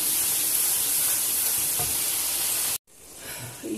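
Tomatoes sizzle loudly in oil in a karahi while a spoon mashes them. The hiss runs steadily, cuts out abruptly for a moment, then returns softer.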